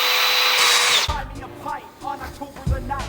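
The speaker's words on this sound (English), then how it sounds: "if I just drill this hole a little bit more, this will fit in there and it should hold it" A power drill bores a hole in a wooden microphone stand, giving about a second of loud, steady whine that winds down abruptly before a person starts talking.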